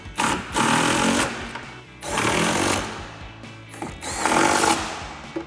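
A power tool drives nuts onto the mirror studs of a 2011-2016 Ford F-250 towing mirror, sounding as three close, loud buzzing impact bursts of about a second each, separated by brief pauses, with no talking.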